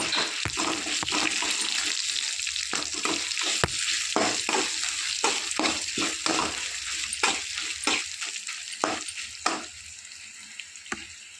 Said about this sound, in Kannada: ಇವಾಗ ಇವೆಲ್ಲವನ್ನು ಹಾಕಿ ಹುರಿದುಕೊಳ್ಳುವ.